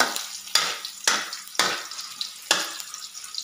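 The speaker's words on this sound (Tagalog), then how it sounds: "Ginigisa ko muna siya para lumabas talaga yung lasa niya." Ginger sizzles as it is sautéed in a pan, with a steady frying hiss broken by four or five sharp scraping stirs of a utensil at irregular intervals, close and clear with no talking.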